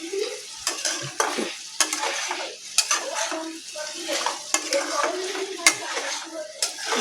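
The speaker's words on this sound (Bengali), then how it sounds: "তেলটা হোক, আমার তরকারিটা একটু কষি।" Vegetable curry sautés in hot white oil, with a metal spoon scraping and clinking against the pot in quick irregular strokes over a soft sizzle.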